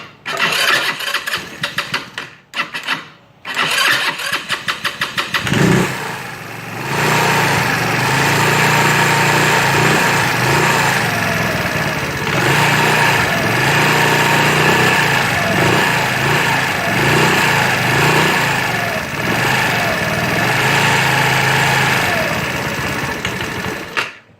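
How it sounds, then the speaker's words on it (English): A GY6 150cc Chinese scooter engine, a Lancer fitted with a high-performance clutch, cranks with a few starter bursts, then fires and settles into a loud, steady buzzing idle up close, with no talk. "So now with everything reinstalled, we're going to go ahead and start up the bike."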